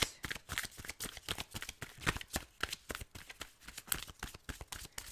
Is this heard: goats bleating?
no